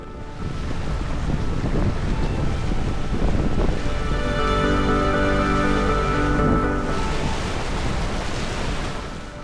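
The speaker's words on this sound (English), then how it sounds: "boiling water shooting out of the ground" A loud, continuous rushing and roaring of water from a hot spring in Iceland, gushing from the ground at about 50 gallons per second with a hissing spray, close by and without any talking.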